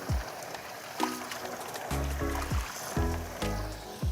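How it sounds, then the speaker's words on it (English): Peeled beans for moi moi rinse in a bowl of water, giving a run of close sloshing swirls and splashing pours that rise and fall in surges. There is no talking. "Let's rinse this out one more time."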